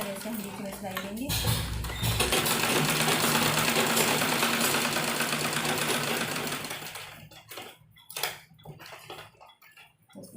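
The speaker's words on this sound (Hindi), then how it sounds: "अब हम इसमें एक बीच में सिलाई लगाएंगे इस तरह से करते हुए।" A sewing machine stitches dupatta fabric into a child's dress, running loud and unbroken for about six seconds before stopping. Softer handling clicks and taps of the cloth follow.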